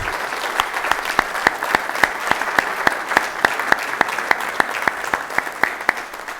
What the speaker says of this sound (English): Let's give them another well-deserved round of applause.